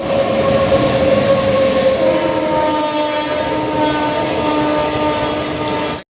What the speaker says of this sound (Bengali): এবারে আমাদের সঙ্গে দেখা হবে 18046 টাউন হায়দ্রাবাদ থেকে শালিমারগামী ইস্ট কোস্ট এক্সপ্রেসের।